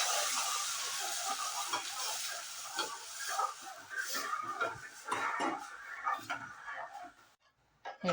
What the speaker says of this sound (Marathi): आता आपण हे कढीचं जे मिश्रण केलेलं आहे ते हळूहळू ओतत ओतत हलवायचं आहे.